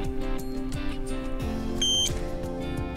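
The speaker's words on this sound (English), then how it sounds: "if it's a real diamond, this will beep and turn green" A diamond tester gives a single short, high electronic beep on a real diamond, clear over faint background noise.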